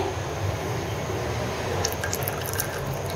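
One cup of cooking oil pours into a cooking pot as a steady, close liquid flow, with a few brighter drips and splashes toward the end.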